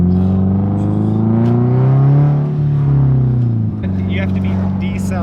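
Subaru WRX STI with a pop-tuned exhaust cruising on a highway, a loud droning engine note that swells and eases with throttle, with a few sharp crackles near the end, under talk inside the car.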